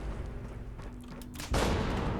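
An explosive arrow from a Bloodied anti-armor compound bow in Fallout 76 goes off as one sudden, broad burst midway, cutting through a low steady rumble and staying loud and noisy to the end.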